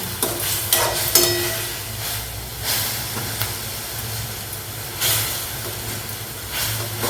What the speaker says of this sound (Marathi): तर तेलावरती चांगली आपली मेथीची भाजी ही परतून झालेली आहे मग आपण आता याच्यामध्ये घालूया जी आपण ग्रेव्ही बनवली ती